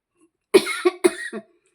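Three quick, throaty coughs in a row, close and fairly loud, with a brief pause between them.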